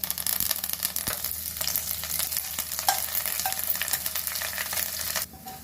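Cumin, mustard seeds, dried chillies and curry leaves sizzle and crackle steadily in hot oil for a dal tempering, close up with stirring, without talk, ending in a quieter tail.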